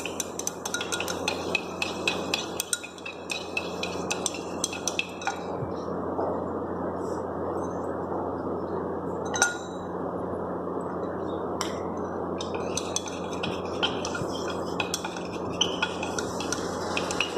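A utensil stirs silica gel into distilled water in a glass vessel, giving repeated scraping and clinking strokes against the glass at close range, with brief pauses between bursts of stirring and a faint background hum.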